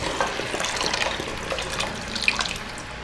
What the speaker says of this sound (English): And we'll add in about 2 cups of vegetable broth.